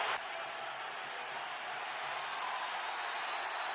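Stadium crowd at a USA vs Mexico soccer match roars in a steady, dense wash of cheering that holds at an even level throughout, with no clear break or peak.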